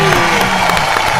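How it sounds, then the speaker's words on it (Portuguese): A television studio audience applauds a guest in a steady burst of clapping with some cheering, while a host's voice carries over it. "Palmas para ele!"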